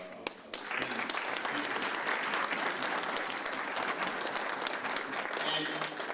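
An audience at a veterans' event breaks into applause after a brief pause, and thick, sustained clapping fills the room while a voice is faintly heard beneath it.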